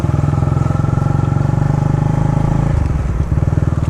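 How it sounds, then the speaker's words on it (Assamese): A motorcycle engine runs loud and close near a police checkpoint on Bogibeel Bridge, with a steady throbbing idle that shifts to a slightly different pulsing rhythm partway through, no voices over it. "ইমান জোৰকে বাজে বাইকখন"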